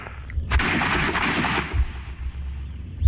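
Several sharp gunshots crack in quick succession in the PC game Sherlock Holmes: Crimes and Punishments, followed by echoing booms and a low rumble, with scattered thuds trailing off.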